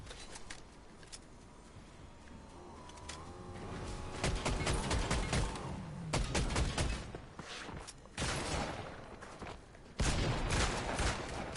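Video game gunfire crackles in sharp, scattered shots, some in quick clusters, over a quiet background with faint tonal game sounds.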